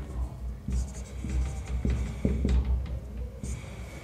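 Pen or chalk strokes from writing during a class 12 geography lesson, a series of short scratchy marks, close and moderately loud, with a room hum underneath.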